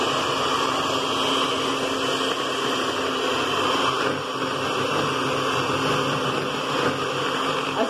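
A steady, buzzing electric mixer motor whirs continuously at close range while making hotcake batter, running without pause.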